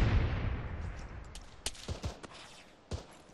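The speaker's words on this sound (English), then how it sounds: "We're taking fire from the northwest" Gunfire in the Arma 3 military shooter: a few distant rifle shots crack out at irregular intervals after a rumbling low blast fades away.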